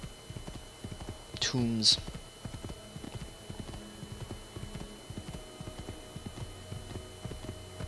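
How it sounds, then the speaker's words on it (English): Horse hooves clip-clopping in a steady rhythmic trot across fields of Tuscany in the video game Assassin's Creed 2, a brief whinny near the start, with a single spoken word. "Going across the wine fields of Tuscany on a horse."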